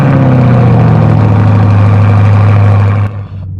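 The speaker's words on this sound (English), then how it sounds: "cold start." A C8 Corvette's engine idles loudly and close at an early-morning cold start, a deep steady rumble with a high, even drone that holds and then drops away sharply near the end.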